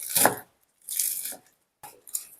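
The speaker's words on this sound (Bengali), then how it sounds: "পালং শাকটাকে আমি এইভাবে কেটে নিচ্ছি।" A knife chops fresh spinach for palak paneer in three short bursts, crisp and close, with brief pauses between the cuts and no talking.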